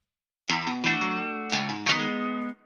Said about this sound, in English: The producer sent you guitars with reverb on them.